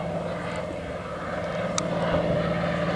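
A Sopwith Pup biplane, RAAF Museum aircraft D4170, roars past at high speed, a steady propeller-engine drone from moderate distance that builds slightly louder through the pass.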